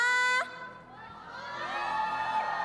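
An esports arena crowd at the EWC 2024 Honor of Kings playoffs cheers and shouts, the roar swelling gradually after a brief high whistle-like tone at the start.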